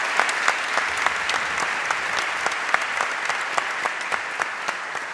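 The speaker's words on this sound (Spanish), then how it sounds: "si el aplauso se lo merecen" Dense, sustained applause from a large audience at a gubernatorial swearing-in ceremony in Buenos Aires province, steady and enveloping with individual sharp claps standing out against the broad wash.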